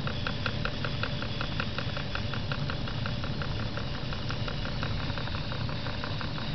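A 1940s Jensen 25 model steam engine runs steadily with its heavy flywheel, giving a continuous mechanical hum and rapid, even ticking pulses, moderately loud and close, with no talk.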